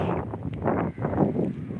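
Wind gusting outdoors under dark, thundery skies before heavy rain in Birbhum district, with flooded canals and fields nearby, a steady close rumbling buffet on the microphone that swells and dips for about two seconds.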